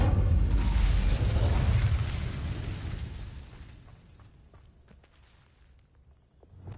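An Incendio fire spell in the game Hogwarts Legacy bursts out as a loud, roaring whoosh of flame that swells at once, then fades over several seconds into quieter crackles and small pops.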